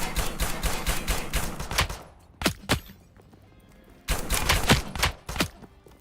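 Video game gunfire in Last Epoch: rapid automatic bursts of shots rattle loudly, break off into a few isolated cracks, then resume in another fast volley, with no talking.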